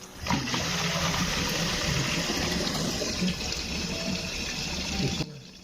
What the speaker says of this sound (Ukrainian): Насос працює